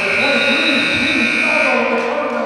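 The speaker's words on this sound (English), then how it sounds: "And that buzzer will end the third quarter of play." A loud, sustained electronic buzzer marks the end of the third quarter at a high school girls' basketball game, holding a steady tone for over two seconds before easing slightly at the end.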